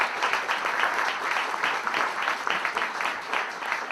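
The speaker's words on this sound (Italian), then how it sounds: "chiedo a tutti voi un grande applauso" Dense audience applause fills an indoor gathering where a professor is being introduced, a steady, fairly loud wash of many hands clapping throughout with no pauses.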